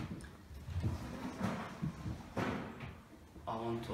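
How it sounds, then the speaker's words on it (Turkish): Lift-up kitchen cabinet doors open and close with a couple of soft thumps and brief rustles, heard nearby beneath a person speaking. "Kalkar kapaklar."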